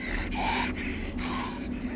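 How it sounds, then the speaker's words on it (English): A zombified, sickly enemy from the game Hunt: Showdown breathes heavily in slow, rasping gasps, three or four drawn-out breaths in a steady rhythm, close and fairly loud, with no voices over it. "like heavy breathing"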